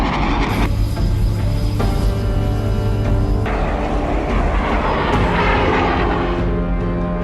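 A SEPECAT Jaguar ground-attack jet with Rolls-Royce Turbomeca Adour turbofan engines gives a loud, steady jet roar with a whining tone, holding constant throughout.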